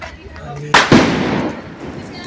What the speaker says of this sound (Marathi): बाहेर पोरं फटाके पण पडतात